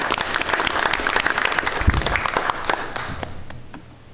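Applause from attendees at a public session meeting, a dense patter of clapping hands filling the room at steady loudness before thinning and fading near the end.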